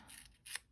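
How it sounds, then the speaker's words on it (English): Paper being torn by hand for a forest-themed cluster craft: two short ripping strokes close to the microphone, the second sharper and louder, with no talking. "we will tear so that we can see the underlying layer"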